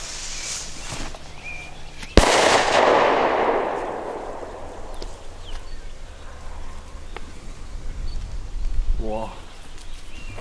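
A Super 2 firecracker goes off with one sudden loud bang, followed by a long fading rumble that echoes outdoors, with faint background noise afterward.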